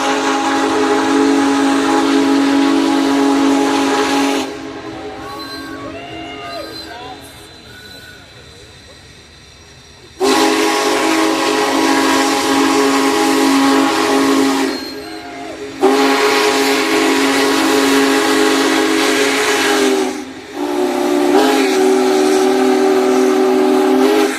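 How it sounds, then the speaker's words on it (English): Union Pacific Big Boy 4014 steam locomotive sounds its deep, raucous whistle in several long, loud blasts separated by short pauses, with faint voices and hiss in one gap. "A deep bellow from 4014's whistle giving a raucous, yet respectable reply."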